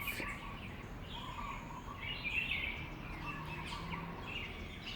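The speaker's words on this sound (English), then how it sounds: "Birds." Faint bird chirps and tweets sound in the distance over a soft, steady outdoor ambience in a shady garden at St. Antoine, Goodlands, Mauritius.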